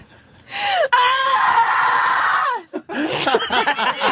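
A woman, an actress known for horror film roles, lets out a long, loud, sustained scream up close, breaking off into gasping and laughter-like vocal sounds at the end.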